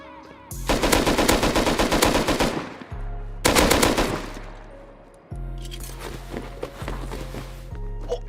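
Automatic AK assault rifle fire rattles in sustained bursts in the survival video game Rust, mixed with in-game footsteps and a low rumbling bed between volleys.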